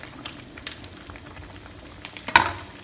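Fish fries in oil, sizzling and bubbling steadily in a pan, close by, with a louder clatter near the end.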